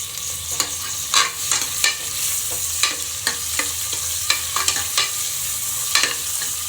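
Mutton fat and onions frying in oil, a constant sizzle broken by repeated sharp scrapes and clacks of a spatula stirring the pan at an uneven rhythm, close and clear with no talking.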